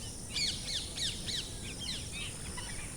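A small cartoon bird chirps merrily in a quick series of bright, repeated twittering calls, close and clear over a soft background hum.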